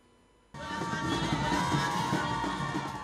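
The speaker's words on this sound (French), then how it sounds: "Des acclamations nourries qui accueillent la première dame de Côte d'Ivoire, Dominique Ouattara" A large crowd at the Palais de la Culture de Treichville in Côte d'Ivoire bursts into loud, sustained cheering, yelling and whooping as First Lady Dominique Ouattara arrives at an event honoring mothers, beginning abruptly after a brief quiet moment.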